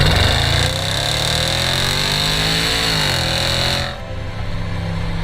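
Range Rover Sport SVR engine rising under a light squeeze of throttle, a steady loud mid-pitched drone that climbs in pitch over a few seconds, then drops away as the throttle eases.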